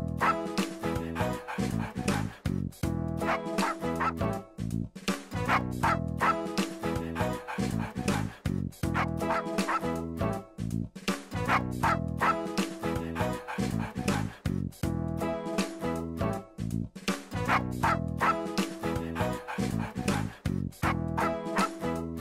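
Tomy Action Arlo and Spot toy figures howling and growling with dog-like barks and yips, repeating in a steady rhythmic pattern that is loud and continuous throughout.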